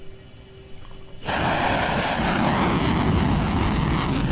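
An F-35B jet engine spools up to full takeoff power, a sudden loud roar that surges in after a quieter idle hum and then holds as a steady, powerful rush.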